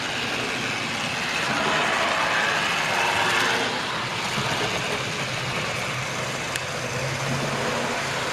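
A model railway B12 steam locomotive runs along a loft layout, producing a continuous light rolling and clattering rumble that swells slightly as it approaches, with no voices.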